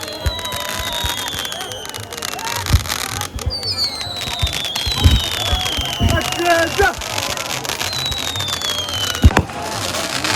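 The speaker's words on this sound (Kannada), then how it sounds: "ನೋಡ್ರಿ ಏನು ಮಸ್ತ್ ಪಟಾಕಿ ಇಡ್ಲತ್ತಾರ ಕೈಲಿ" Repeated sharp firecracker bangs burst out irregularly over a noisy outdoor crowd, with crackling pops and whistling streaks scattered throughout.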